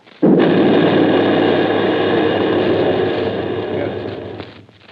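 Artillery gun firing in a 1939 War of the Worlds radio drama, a single loud boom that swells into a long roaring rumble lasting several seconds before fading.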